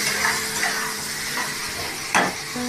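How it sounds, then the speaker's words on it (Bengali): Fish curry being stirred in a pan after turmeric and cumin powder go in, a steady low sizzle with a few soft scrapes and one sharper clatter of the spoon near the end, no talking. "হলুদ দিচ্ছি, দিয়ে আমি এটা নাড়াচাড়া করছি"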